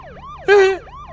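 A police siren in Minecraft wails with a rising and falling tone, and a sharp, loud horn-like blast cuts in briefly over the sweep before it resumes.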